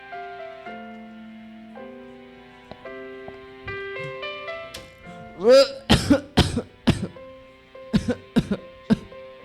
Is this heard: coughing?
yes